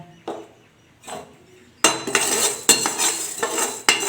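Urad dal is stirred and roasted in a kadai: a couple of faint scrapes, then busy metallic clinks and rattles of the spoon against the pan, close and fairly loud.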